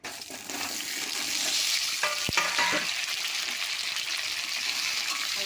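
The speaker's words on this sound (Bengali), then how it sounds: "আলুটাকে লাল লাল করে ভেজে নেব" Loud, continuous sizzling of potatoes frying in mustard oil, close up, with a brief clink and stirring midway and no voices.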